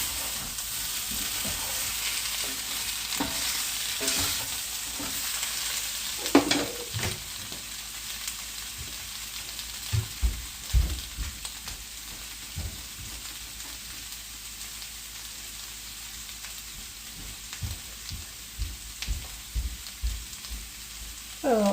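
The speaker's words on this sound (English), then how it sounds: "Just kind of chopping the potatoes up a little bit." Chopped potatoes sizzle steadily in a hot pan, a continuous frying hiss broken by intermittent scraping and tapping as a utensil breaks them up.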